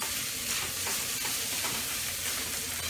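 Sausage and onions frying in a wok for fried rice, a loud, continuous sizzle with steady stirring scrapes and tossing, close up with no talking.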